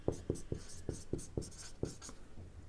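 Pen or chalk writing by hand while working through eigenvector math, a steady series of short scratchy strokes roughly every quarter second, close and fairly quiet, with no talking.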